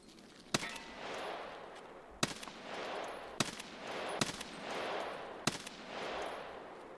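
Gunfire in the Escape from Tarkov video game, a gun on single fire letting off five sharp isolated shots spaced about a second apart over a quiet, hissing background.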